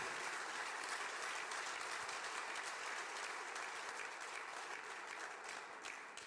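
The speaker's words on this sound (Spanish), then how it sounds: "Denle un aplauso al Señor." Congregation applause at a church service, a continuous faint wash of many people clapping together, steady and even throughout with no talk over it.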